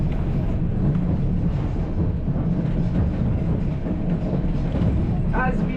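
White Pass & Yukon Route summit excursion train rolling steadily on its rails, a dense continuous rumble of wheels and carriage noise close by, with people talking over it throughout.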